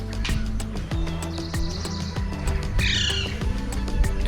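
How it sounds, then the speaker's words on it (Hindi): Birds chirp outdoors on a cool, breezy day, short tweets and a brief trill standing out over steady background noise and low tonal hum, with no talking. "पंछी चहचहा रहे हैं"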